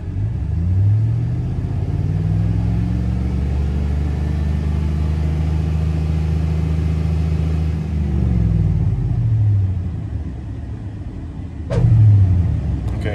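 A 2002 Chevrolet Silverado 5.3L V8 is held at about 3,000 RPM for a steady, loud, close drone, then drops back toward idle and rises again near the end, with no talking.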